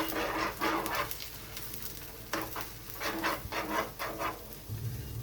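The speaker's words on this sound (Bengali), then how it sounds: "তেলের মধ্যে ফেটানো ডিমটা দিয়ে দিয়েছি এবার এটা আমি ভেজে নেব" Beaten egg frying in hot oil in a pan gives a steady crackling sizzle throughout, with recurring brighter scraping or stirring bursts and no talking.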